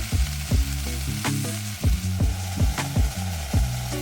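Chickpeas and onions sizzle and fry in a pan on a van stovetop, a steady crackling hiss broken by repeated scraping stirs at a regular pace, close and fairly loud with no talking.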